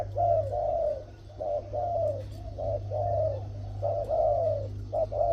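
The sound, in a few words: dove cooing, tame decoy bird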